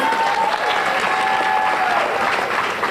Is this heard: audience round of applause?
yes